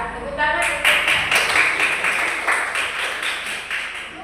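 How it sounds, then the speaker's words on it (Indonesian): Applause from an audience at a teacher-training graduation event in Palu, Indonesia, a dense steady patter of many hands clapping for about four seconds after an initial moment of quieter sound, with a murmur of voices underneath. "Ya, tepuk tangan."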